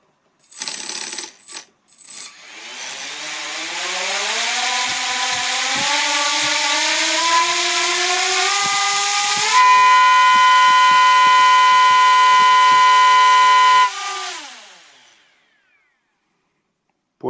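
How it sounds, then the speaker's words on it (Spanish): A homemade drone motor test bench spins a large propeller: clicks at the start, then a whine ramping steadily upward in pitch, holding a loud, harsh tone for several seconds before winding down to silence. "Vamos a probarla porque en teoría es la que más potencia tiene que dar"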